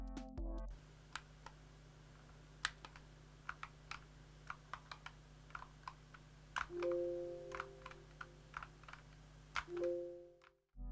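Clacky typing on an A4Tech Bloody B950 RGB gaming keyboard with unlubricated stabilizers, irregular individual keystrokes close up, with a couple of longer key rattles, quiet background hum.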